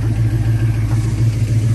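A 1963 Ford Fairlane restomod idles steadily up close, its engine holding a low, even rumble without breaks and no voices over it.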